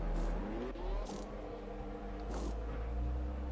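A McLaren racing car in a racing video game pulls out of the pit lane, its engine whining and revving with rising and shifting tones over a steady low drone.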